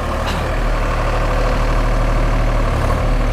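A Sonalika tractor engine runs steadily with a rotavator attached, a loud, continuous low diesel drone without pauses.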